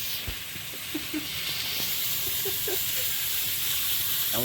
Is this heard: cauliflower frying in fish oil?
yes